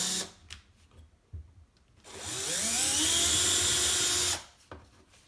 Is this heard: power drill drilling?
yes